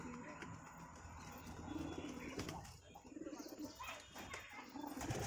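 Madras high-flyer pigeons with clipped wings coo softly nearby, mixed with bursts of wing fluttering and rustling against steady background noise.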